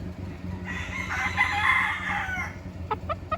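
A Golden Boy Sweater gamefowl broodstag, bred from a Machine Kelso line, lets out a single full crow close by. A few short clucking notes follow near the end over a low farm hum.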